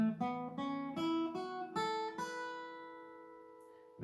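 Guitar picks out a two-octave major pentatonic scale, single notes plucked one after another in a steady ascending run, the last note left ringing and fading alone.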